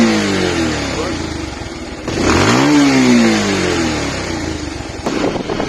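A motorbike engine revs up as the throttle opens, rising to a strong, loud roar then easing back, with a second short burst near the end, close to the microphone.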